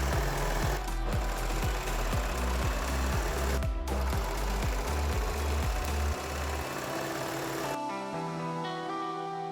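A Baby Lock Victory sewing machine with thin size 75 needles stitches seams, a fast rhythmic mechanical chatter of regular needle strokes that runs for several seconds, then the motor slows and stops, leaving a quieter hum.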